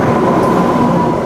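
A train rumbles at Borivali railway station in Mumbai, a loud, steady low roar of rolling stock filling the short moment without talk.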